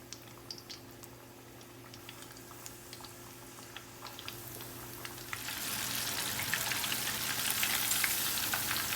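Shrimp going into a hot pan begins to fry. Faint scattered crackles come first, then a steady broadband sizzle swells and holds for the last few seconds.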